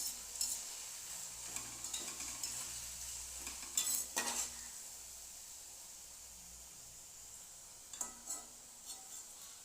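Potato chips fry in hot oil in a pan, a steady close sizzle and hiss broken by scraping stirs and metal utensil clinks at intervals.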